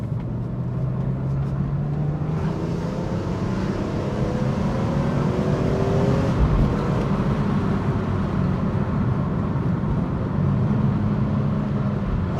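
BMW M3 E46 coupe with SMG II gearbox, its straight-six engine revving with rising and falling pitch sweeps and a throttle blip on downshift, continuous and fairly loud throughout.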